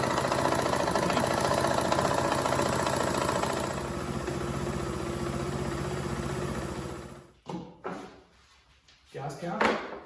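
A 2015 KTM 500 EXC motorcycle engine idles steadily and loudly up close for several seconds, then cuts out, leaving brief clunks and handling sounds.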